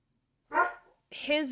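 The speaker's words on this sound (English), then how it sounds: "My dog is letting me know that the trash cans are here." A dog barks at trash cans outside, two sharp barks about half a second apart, close and loud with nothing else around them.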